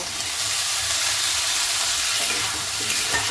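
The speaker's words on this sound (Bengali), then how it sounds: "এবার ভালো করে মশলাটা কষিয়ে নেব। এবারে সেই আলুগুলো দিয়ে দিব।" Potatoes sizzle and fry in a spice paste in a hot pan, a steady dense hiss of frying filling the whole stretch with faint stirring scrapes, no voices.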